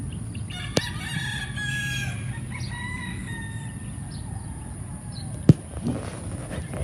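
A stag rooster on a Philippine gamefowl breeding farm crows a long cock-a-doodle-doo, with other fowl clucking and calling nearby over a steady outdoor background hum.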